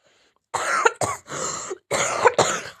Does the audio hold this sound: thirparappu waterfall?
no